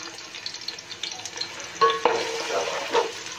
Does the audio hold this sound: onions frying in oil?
yes